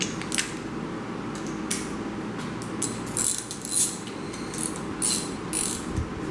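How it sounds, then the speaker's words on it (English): A 3/8 ratchet with a 6-point socket working on engine lifters during a 360 engine build, giving a continuous run of fine metallic clicking, close and fairly quiet, with a few louder ticks. "I also recommend using a 6-point socket on your 3/8 ratchet."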